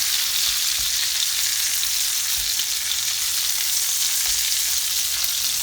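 Turkey cutlets fry in oil with a steady, loud, even sizzle that runs throughout, with a few soft low bumps as they are turned.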